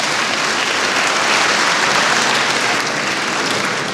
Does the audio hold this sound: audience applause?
yes